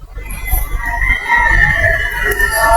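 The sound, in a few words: chickens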